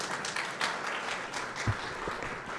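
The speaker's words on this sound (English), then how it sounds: "let's give him another round of applause beginning his second term" Audience at a mayor's back-to-school press conference applauding, a brief dense patter of clapping at moderate distance with no voices over it.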